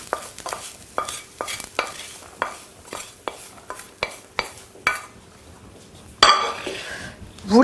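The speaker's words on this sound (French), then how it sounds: "Vous les répartissez bien sur le fond de votre pâte" Fried onions spread with a utensil across a tart pastry base, about a dozen light regular scraping taps against a dish over a soft sizzle-like hiss, ending in a louder clatter.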